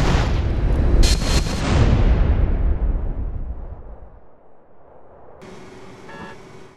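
A loud burst of gunfire in GTA San Andreas, a few sharp shots and booming impacts at the start that decay into a fading rumble, followed by a faint later sound, with no talking.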